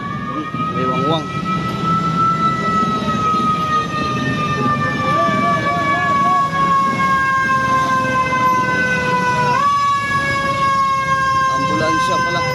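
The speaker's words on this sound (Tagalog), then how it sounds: "Ambulansya pala." A wailing ambulance siren passes close by at Malabon fish port, loud and steady with rising and falling tones, while street noise and a few voices carry underneath.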